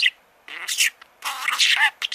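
A pet budgerigar chirps and chatters indoors in close, scratchy bursts separated by short pauses, the bird's warbling, talk-like vocalizations filling most of the moment.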